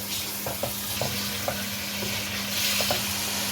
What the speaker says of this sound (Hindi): अब चिकन इसमें थोड़ा सा मिक्स करें मसाले के साथ इसको।